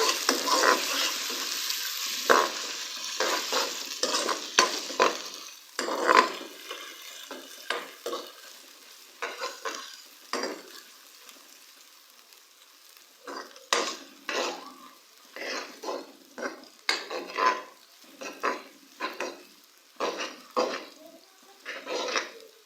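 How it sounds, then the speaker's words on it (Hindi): Ginger-garlic paste and onions sizzle and crackle in a hot pan while a utensil repeatedly scrapes and stirs, with bursts of clattering, close up and fairly loud. "अदरक लहसुन के पेस्ट को जो है हम लोग 1 मिनट तक प्याज के साथ फ्राई"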